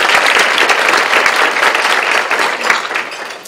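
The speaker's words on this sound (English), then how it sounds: "We can give her a round of applause because she'll be here shortly." A room full of guests at a Go Red for Women luncheon breaks into loud, steady applause that holds for a few seconds before gradually tapering off.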